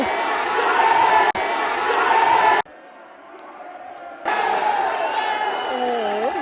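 A crowd of supporters at a sepak takraw match cheers and shouts loudly, with the roar cutting out briefly and dropping for a quieter stretch before surging back at full volume.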